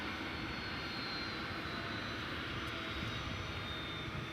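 A jet airliner touching down on landing at DFW Airport at night, a steady broadband roar of engine and rushing air held at an even level throughout, moderately distant, with no voices.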